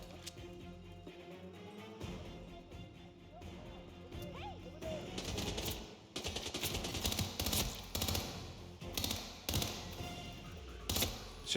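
Rapid bursts of video game gunfire crackle through the second half, dense and loud, layered over game ambience with some talk in the background.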